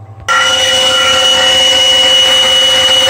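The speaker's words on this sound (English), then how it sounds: "Right, this is cutting the slot for the binding." A power cutter on a machine tool starts abruptly and keeps up a loud, steady high whine as it cuts the binding slot in the maple-style neck of a Gibson Les Paul style guitar.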